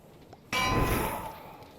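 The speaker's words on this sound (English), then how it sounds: "Why did you Woo! haunt the bell?" A haunted bell in Minecraft with the Create mod clangs once after a quiet moment, a sudden bright metallic strike that rings on and slowly fades, with no talk.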